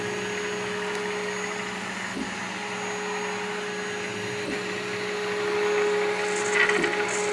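A 3D printer's stepper motors run a steady whirring drone with a constant tonal whine, occasional faint clicks, and a slight rise in intensity near the end.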